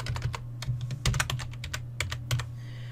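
Close, quick typing on a computer keyboard, a short irregular run of soft key taps with a couple of louder strokes near the end, no talk.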